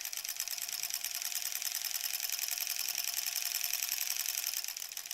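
A home sewing machine stitches sashing onto a granny-squares quilt, giving a steady, continuous mechanical whir that holds at an even level throughout with no talking.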